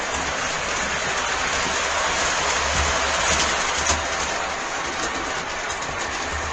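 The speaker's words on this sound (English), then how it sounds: "You knew I was going to run a train for you." A model railroad train runs steadily on a home layout with a river-themed bridge section, producing a continuous close rolling rumble with faint track clatter throughout, no speech.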